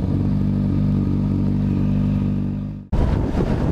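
Electric motorcycles ridden at night through hilly streets give a steady, loud humming drone that fades and cuts out briefly, then returns rougher and close.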